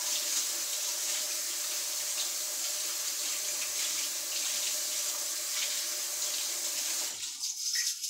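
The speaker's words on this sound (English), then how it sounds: "Let me rinse the chain mail off again." Steady running water from a kitchen tap pours over a chain mail scrubber while cleaning a cast iron skillet, a continuous hiss that cuts off near the end.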